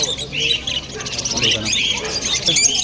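Many budgerigars in cages at a crowded bird market in Kolkata, a busy overlapping chatter of chirps and squawks throughout, with people talking nearby.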